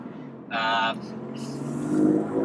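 A BMW M3 Competition accelerates while driving, its engine note a steady, moderately loud drone that swells toward the end, with someone talking over it.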